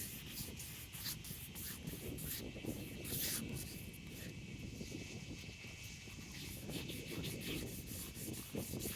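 A car headlight lens is wet sanded by hand with 400 grit sandpaper, a faint continuous rasping scrub in steady back-and-forth strokes, with no talk.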